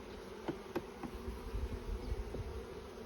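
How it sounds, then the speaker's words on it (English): Steady low honey bee buzzing hovers close by at an open hive, with a few brief louder bursts as if wings pass near. "This bee is not getting off my leg."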